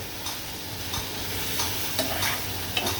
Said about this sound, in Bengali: চিংড়ি মাছটা এইভাবে তেলে আগে একটু কষিয়ে নিতে হবে